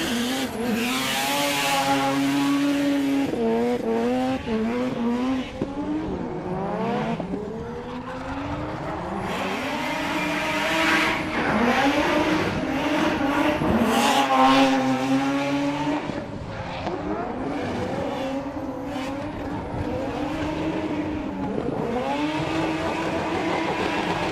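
A 13B turbo rotary drift car screams at high revs on a track during drift championship qualifying, loud and close with rising and falling engine pitch throughout, punctuated by gear changes and tire noise.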